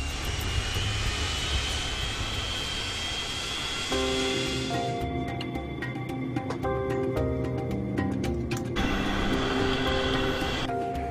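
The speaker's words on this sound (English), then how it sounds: "It takes just 4 minutes for the plane to reach the foot of the runway." A Boeing 737 taxis toward the runway at Manchester, its jet engines giving a continuous rumbling whine, with a high tone fading midway and a sequence of clicking, tonal electronic sounds layered over the steady engine roar.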